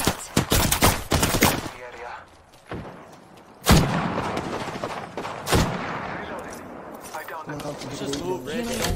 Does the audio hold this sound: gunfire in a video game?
yes